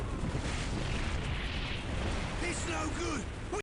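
Artillery fire rumbles through a Dawn of War Ultimate Apocalypse battle between Space Marines and Demon Hunters, dense continuous booms and blasts with someone talking over the din.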